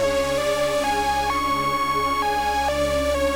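A simple synth lead arpeggio from Analog Lab plays with its notes inverted, a steady bright tone stepping between a few pitches at moderate level, alone.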